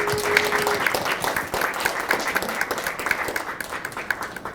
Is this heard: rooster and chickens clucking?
no